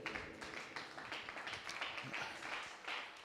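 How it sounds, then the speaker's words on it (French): A church congregation applauds together, a dense steady wash of many hands clapping that holds across the whole stretch at moderate level. "Est-ce qu'on peut applaudir la parole du Seigneur?"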